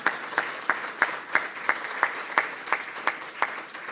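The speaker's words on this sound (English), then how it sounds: "Applaud Katchig." An audience claps after a lecture, a steady patter of applause from a modest crowd with regular louder beats, continuous and fairly close.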